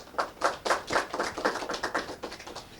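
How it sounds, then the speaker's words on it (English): A small group of people at an award ceremony clapping for a student, about a dozen sharp, fairly close claps in a loose, uneven rhythm that thins out toward the end. "so give her a clap too"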